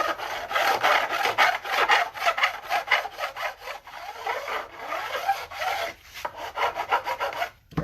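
A metal file strokes back and forth across guitar fret ends in steady, close rasping passes, about a dozen quick strokes with brief pauses near the end.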